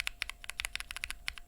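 Keys with lubed Gateron Slate linear switches are typed on in a quick, uneven run of close, crisp clacks, about a dozen strokes in a second and a half with no voices.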